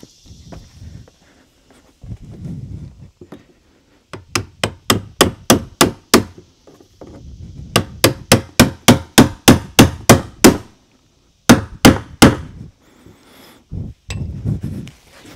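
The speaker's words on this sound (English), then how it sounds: "now I'm going to go ahead and tap it in. And I'm talking about the lock ring here, tapping in the lock ring." A hammer taps a fuel pump lock ring into place on a GM 2.2L Ecotec fuel tank, with sharp metallic strikes in quick bursts of several blows separated by short pauses, close and loud.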